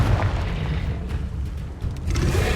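Confringo spell blasts in Hogwarts Legacy rumble with a deep, continuous booming roar, loud and close, swelling again near the end like a fiery explosion.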